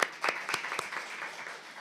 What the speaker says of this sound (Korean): 예, 박수 부탁합니다.